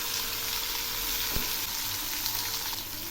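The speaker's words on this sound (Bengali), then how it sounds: "এই সবজিগুলো বেশ কিছুক্ষণ ধরে ভাজব।" Drumstick and potato vegetables fry in oil in a pan with a steady, close, hissing sizzle that holds evenly throughout, broken only by a single soft tap near the middle.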